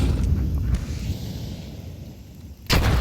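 A grenade blast in Counter-Strike during an IEM Dallas 2024 match, a low rumbling boom that fades over a few seconds before a second sharp loud burst hits near the end.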